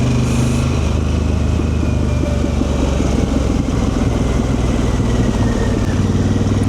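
A Harley-Davidson Pan America adventure motorcycle turns on a narrow gravel road, its engine a loud, close, steady rumble that holds throughout.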